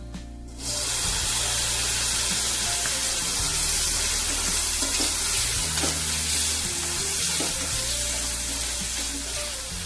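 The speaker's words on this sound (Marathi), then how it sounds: "आता आपण टाकणार आहोत टमाटे" Tomatoes dropped onto lightly fried onion in a hot pan burst into a loud, sustained hiss and sizzle that carries on steadily to the end, with no talking.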